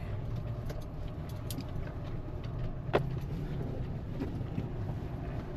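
Road traffic on a busy mountain road near Mana village close to Badrinath: a quiet, continuous low rumble of vehicles passing at a distance with wind noise and one brief knock midway.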